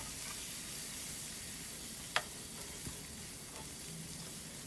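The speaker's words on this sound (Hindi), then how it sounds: "लहसुन अदरक भी फ्राई हो गया है।" Ginger garlic paste with onions frying in oil over a medium flame, a steady close sizzle and crackle throughout, with a light clink of a utensil midway.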